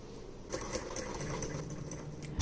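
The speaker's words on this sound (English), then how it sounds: "we're using the machine to stitch pockets together, stitching over once and then flat" A sewing machine stitches the pockets of denim trousers, a quiet, fast, steady mechanical whirr close by with a couple of small knocks and no talking.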